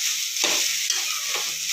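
Ladies finger (okra) being stirred and fried in a pan, a constant hissing sizzle broken by several quick scraping stirs, close and fairly loud.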